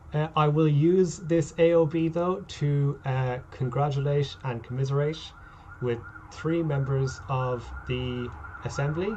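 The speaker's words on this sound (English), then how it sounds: "sorry for the siren" An emergency vehicle siren wails faintly in the distance beneath someone speaking steadily at a faculty assembly meeting.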